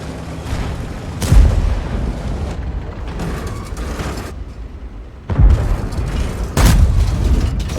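Italian Controcarro 3 Minotauro tank destroyer firing its gun in World of Tanks, two heavy booming shots around the middle and late parts over a constant rumble of engine and battle noise, no voices.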